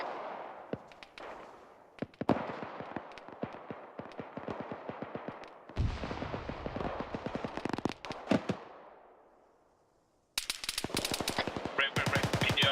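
Rapid automatic gunfire in the Arma 3 video game, bursts of machine-gun rounds in several volleys, some loud and close, others fading, with a sharp final string of shots.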